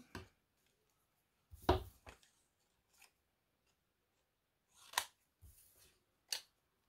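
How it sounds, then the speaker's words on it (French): A few short, crisp snips and rustles spaced out over silence, quiet and close, as scissors cut paper for a Valentine's card. "Ciseaux."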